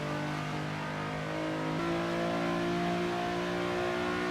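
Race car engine from the Assetto Corsa racing game during a 24-hour Le Mans event, droning steadily and loudly with a sustained high tone that dips briefly near the midpoint, then holds on.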